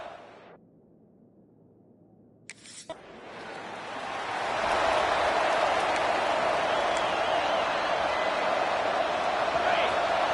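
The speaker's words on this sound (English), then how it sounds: "this crowd is fired up. Listen to this noise here." A large stadium crowd at Darrell K. Royal Stadium in Austin, Texas, roars in College Football 26. After a quiet opening, the noise swells into a loud, sustained wash of cheering.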